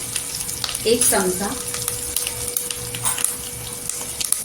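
Garlic and red chili powder sizzle and fry in hot oil with curry leaves for a mixed dal tempering, a steady close crackle with a brief stir, and a voice speaking briefly over it.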